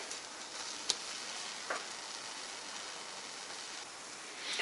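A fried egg topped with a cheddar slice sizzles softly and steadily in a pan, with a couple of faint ticks.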